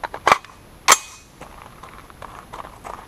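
Two sharp, loud rifle shots from a rifle fitted with a muzzle brake crack about half a second apart at a bowling pin target, each followed by a short ringing decay, then quiet background.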